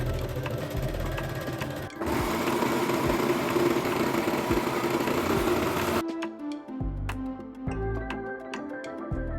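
A sewing machine runs steadily while sewing the side seams of wide-leg pleated shorts, a close, continuous motor hum with rapid needle rhythm that shifts partway through to quieter start-stop stitching.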